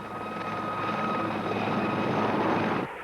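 An RAF helicopter, a Puma or Gazelle, flies past with a loud, steady rotor and engine roar that holds for about three seconds, then drops away abruptly.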